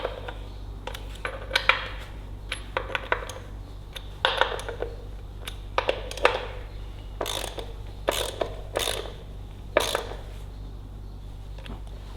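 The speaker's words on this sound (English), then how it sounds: "I shall finish it off with a ratchet" Short bursts of ratcheting clicks from a hand ratchet tightening a bolt on a Ferguson TEA20 tractor during hydraulic reassembly, several separate runs of clicking spread out with pauses between them over a low steady hum.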